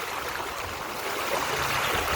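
A shallow stream of fresh water flowing steadily nearby, a continuous soft rushing and trickling with no voices.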